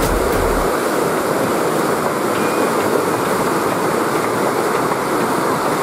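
Rapids on the Sungai Napal river in Jambi roar steadily and loudly, a dense, unbroken rush of churning water that fills the whole stretch with no voices.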